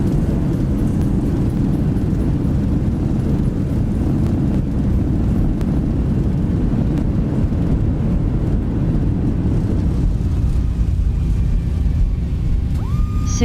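A simulated airliner rolls out after landing with reverse thrust, a loud steady roar of rushing engine and wind noise filling the whole stretch and easing slightly toward the end, with a brief faint tone at the close.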